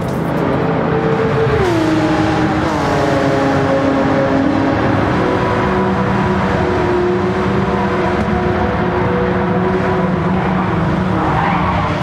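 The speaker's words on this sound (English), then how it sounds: "Racing the Nordschleife in GT7 is less game and more of an experience." Race car lapping the Nürburgring Nordschleife in Gran Turismo 7, engine droning loud and continuous with pitch shifts as gears change and tyres squeal through corners.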